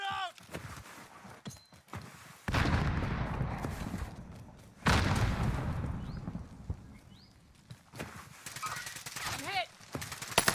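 LMG machine gun fire in the Warzone video game, two long sustained bursts of rapid shots, fairly loud, with quieter scattered sounds around them and voices talking in between.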